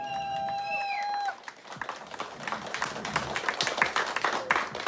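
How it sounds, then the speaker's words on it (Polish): Wedding guests at an outdoor ceremony break into applause for the bride and groom, a dense wash of clapping that swells after a brief tonal whistle-like sound at the start and continues steadily, close and lively. "Wielkie, wielkie brawa."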